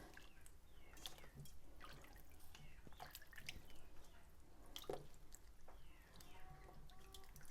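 Homemade butter is rinsed in water, giving faint soft squishing, dripping and splashing sounds with scattered small clicks in a quiet kitchen.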